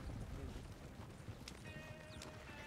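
Hooves of a donkey or horse clip-clopping along at a walking pace, fairly faint under a steady outdoor rumble, with a few sharper knocks and a brief whistle-like tone.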